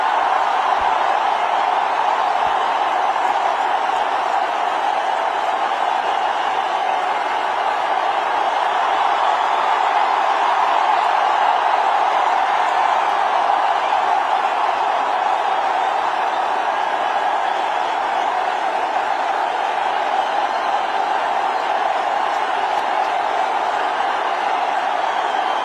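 A cricket crowd gives Sachin Tendulkar a standing ovation at his last Test match, a steady, dense roar of cheering and applause that holds at an even, loud level throughout with no breaks.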